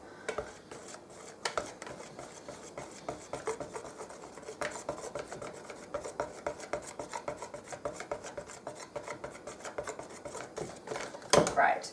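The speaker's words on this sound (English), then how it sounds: "So I'm kind of just beating it into the batter" Cake batter being beaten in a bowl, a steady scraping and rubbing of utensil against the bowl repeating throughout, close and fairly quiet, with a sharper knock near the end.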